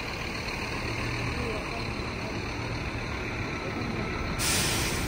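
A bus pulls out of a metro bus station, its engine grumbling low beneath steady traffic noise, with a brief sharp air-brake hiss near the end.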